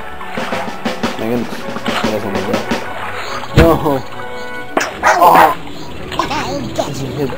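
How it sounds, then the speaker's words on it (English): A cartoon dog in the Raft Wars video game barks, yips and whimpers in short bursts amid game sound effects, with someone talking throughout. "The dog is hilarious."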